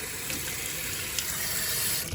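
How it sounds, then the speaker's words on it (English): Water pours steadily into a can holding leftover sauce, a continuous close gushing fill that stays even and unbroken from start to finish. "I'm going to go ahead and just add some water in here and fill that up to the top."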